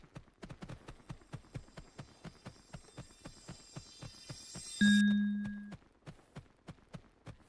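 Steady clip-clop of horse hooves trotting in the video game Horse Isle 3, evenly rhythmic and close, with a bright chime ringing out midway over the hoofbeats.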